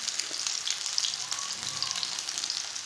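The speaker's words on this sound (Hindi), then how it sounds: "इसे भी 2 मिनट तक एक साइड से पका लेना" Chicken seekh kebabs fry in a home kitchen pan with a steady, close, bright sizzle and crackle that stays even throughout, with no talking.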